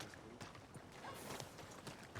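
Horse hooves clip-clop in Red Dead Redemption 2, a quiet run of uneven clopping steps on the ground with faint town ambience around.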